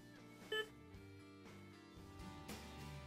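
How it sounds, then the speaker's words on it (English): A short electronic beep from the pad switch of a Prestan AED trainer, a single brief tone near the half-second mark, heard over a faint steady background hum. "Lightly press the pad switch and listen for the beep. Hear the beep?"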